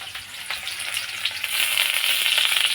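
Onions drop into a pan of boiled chow mein noodles frying in oil, a close crackling sizzle that grows louder and denser partway through, with light stirring clicks and no talk.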